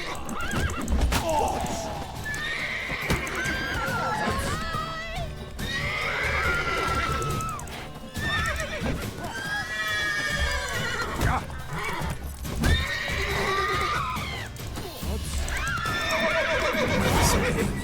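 Roach, the horse in The Witcher 3 video game, neighs and whinnies repeatedly over rhythmic hoofbeats, loud and close, with a voice talking briefly alongside.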